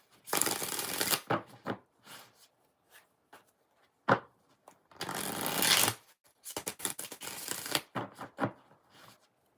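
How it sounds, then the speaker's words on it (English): Tarot cards shuffled in several bursts, riffling loud and close, with short taps and softer handling sounds between the shuffles and no talking. "3 more shuffles for Miss Bikini Girl."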